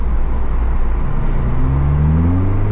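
A 2024 Subaru Impreza RS fitted with a Remark axle-back exhaust cruises in sport mode with the front windows down, its engine drone steady and loud, pitch rising as it pulls through a canyon road.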